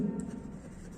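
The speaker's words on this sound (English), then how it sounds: "this way we are going to write Buddha or Buddha" Handwriting on paper in a primary-school English lesson, a brief soft scratch of pen or pencil strokes heard close up, with no voice.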